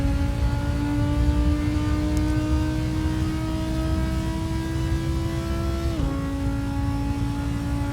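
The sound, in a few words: Audi R8 GT4 engine driving a lap in Assetto Corsa video game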